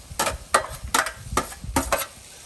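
Onions and spices fry in a pot, with repeated bursts of stirring and scraping that come in an irregular rhythm about every half second, close and fairly loud, over a soft sizzle.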